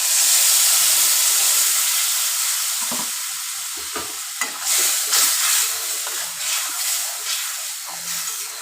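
Water sizzles and hisses in a pan of vegetarian okra curry, a loud steady steam hiss at first that settles into bubbling and intermittent sputtering and stirring noises.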